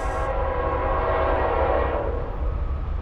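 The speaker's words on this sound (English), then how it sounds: "It's my fourth train in like an hour." A Norfolk Southern freight train passing close and loud, with a continuous rumble of rolling cars and a blaring horn over it.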